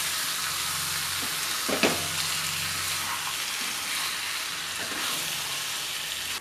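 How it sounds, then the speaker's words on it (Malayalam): Chicken pieces fry in masala for a chicken roast, a continuous low sizzle with one sharp stirring scrape early on and fainter spoon movements later. "ചിക്കൻ പീസസ് എല്ലാം ഇട്ട് കൊടുത്തു കഴിഞ്ഞതിന് ശേഷം നന്നായിട്ടൊന്ന് ഇളക്കി കൊടുക്കാം"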